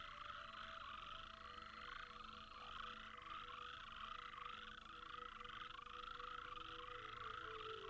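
Frogs gathered on a tree bough during mating keep up a dense, continuous chorus of rapid, rhythmic croaks and trills, steady and moderately distant throughout.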